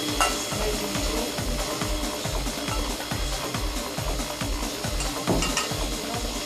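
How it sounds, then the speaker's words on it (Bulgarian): An electric mixer beats honey cake batter as butter and eggs go in, a steady loud whirring with rhythmic low churning pulses running throughout and no voices. "Намалям оборотите на миксера и прибавям маслото, и прибавям яйцата."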